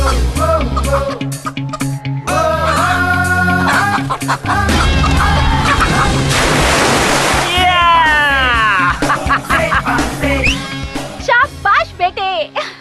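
A rooster clucking and squawking while being chased, its calls mixed with music, splashy noise and people talking, loud and close throughout.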